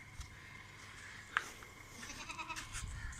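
A goat bleats once, short and fairly clear, at a livestock goat farm offered for sale, over faint background farm noise and low rumble.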